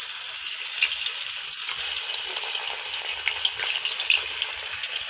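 Fish rubbed with salt, turmeric and chili frying in hot oil, a steady, dense sizzle that holds close and loud throughout with no talking.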